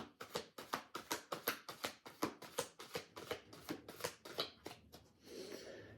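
Tarot cards drawn from a deck and laid out on a surface, a quick run of crisp flicking and snapping card sounds, close and fairly quiet, ending in a soft shuffle.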